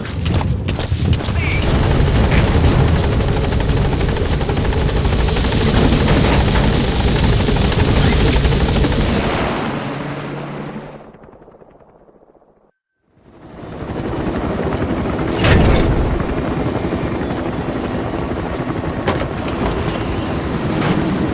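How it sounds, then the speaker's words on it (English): Video-game support helicopter arrives with a loud, steady rotor roar that fades out briefly, then swells back at full strength, its thumping blades dominating the mix. "A support helicopter Roger."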